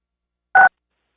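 A single short two-tone telephone keypad beep as a caller presses keys to unmute during a city council meeting's public comment call-in, loud and brief against silence.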